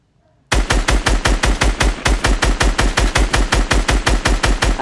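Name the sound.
SCAR rifle gunfire at shooting gallery in video game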